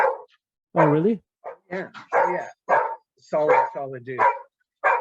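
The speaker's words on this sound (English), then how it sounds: "Sorry about the dog." A dog barks and yips in several short, sharp bursts mixed in with close conversation between two people, the barks loud and intermittent.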